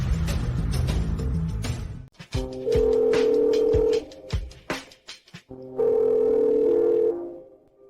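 A telephone dial tone sounds while a call is being placed: two long, steady beeps separated by a pause, with brief other noises before them and no talking.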